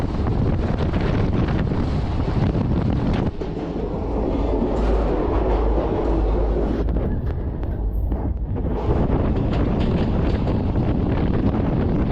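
Kurnool to Guntur express train running along the track, a steady loud rumble with wind buffeting the microphone throughout, a brief dip in the middle before the roar resumes.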